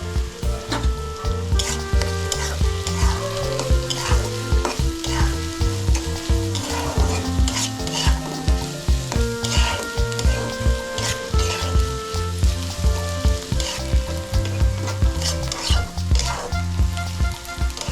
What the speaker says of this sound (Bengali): তেলটা গরম হয়ে আসলে এখন দিয়ে দিব পেঁয়াজ কুচি এক কাপ আর হাফ কাপ রসুন কুচি